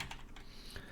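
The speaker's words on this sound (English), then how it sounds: "What we're going to type in here is r underscore" Keys clatter in quick, uneven bursts as a console command is typed on a computer keyboard, close and fairly faint, with no voices.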